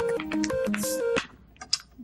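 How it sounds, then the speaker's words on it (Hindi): A telephone rings indoors at a family home with a short melodic electronic ringtone of stepped beeping notes, then stops, leaving a few faint clicks and taps. "तो फोन बज रहा है, फोन उठाओ।"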